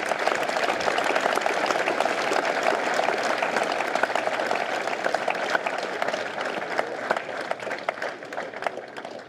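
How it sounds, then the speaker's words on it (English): A crowd applauds the winners at a debit card launch event with the Defence Minister, a sustained, even roar of clapping with sharp individual claps, continuing at steady volume for over nine seconds. "Ladies and gentlemen, let's have a round of applause."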